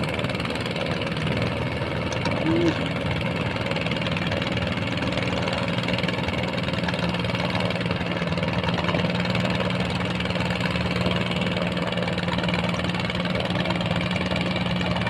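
Fishing boat engine running under strain while the boat is stuck with an iron fishing net, a steady low droning rumble with a knocking, vibrating tone that holds continuously without voices.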